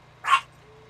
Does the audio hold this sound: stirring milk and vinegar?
no